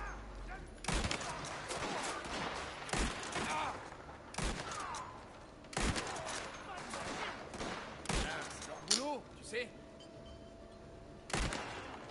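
A shotgun fires in the video game Mafia, with a series of sharp, loud blasts spaced irregularly across the scene over a quieter background of game ambience.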